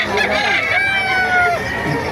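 A rooster crows loudly and close at a market in Bocaue, Philippines, one long drawn-out call, with other fowl clucking and faint background chatter.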